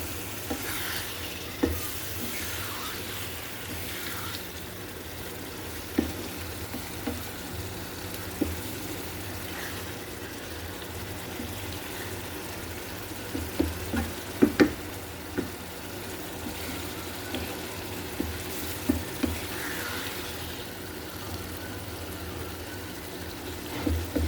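Mola fish frying with spices in a pan sizzles continuously while a utensil stirs, giving sharp scraping clicks and knocks at irregular intervals over roughly twenty-four seconds.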